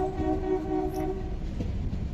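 A train running through Gir Forest on the Junagadh to Sasan Gir line, heard as a steady rail rumble with a sustained horn tone over the first part and continuous clatter beneath.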